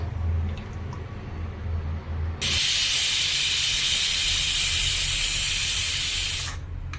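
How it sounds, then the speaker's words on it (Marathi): A pressure cooker whistles while masale bhat and kadhi cook on a gas stove, a loud, sustained hissing shriek that bursts in abruptly after a low background rumble and cuts off sharply near the end. "आपल्या कुकरला शिट्टी झाली आहे"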